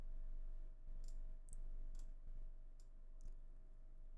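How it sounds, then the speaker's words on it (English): Sharp computer keyboard and mouse clicks, about six separate taps spaced irregularly, soft and close over a steady low hum of background noise with no talk. "Like if you're clicking on the keyboard or the mouse or something, you'll probably hear it come through."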